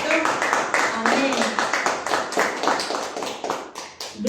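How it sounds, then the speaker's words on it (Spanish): A church congregation claps during a Friday teaching service, uneven rhythmic hand taps layered with voices speaking and calling out over the clapping. "¿Por qué no le damos un aplauso a nuestro Señor Jesucristo?"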